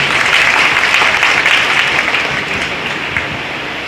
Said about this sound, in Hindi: ज़बरदस्त ताली हो जाए इनके लिए